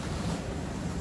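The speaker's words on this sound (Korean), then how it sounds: "지금 파도는 엄청나게 셉니다" Strong sea waves crash and surge at a rocky fishing point in Songjeong, with the sea rough after days of bad weather. A continuous, close broadband roar of surf and wind runs through the whole stretch.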